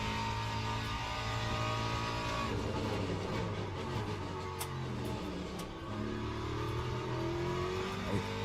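Several race cars roar around the Sebring circuit in Le Mans Ultimate, an LMGT3 and LMP2 multiclass race: a loud, sustained engine drone with shifting revs and a closer car surging past near the end.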